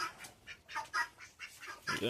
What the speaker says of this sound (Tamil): வாத்துங்க வந்துருச்சு